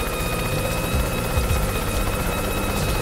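A constant droning rotor whir comes from the flying helicopter form in the video game Yooka-Laylee. It stays close and even in level from start to finish, heard alone.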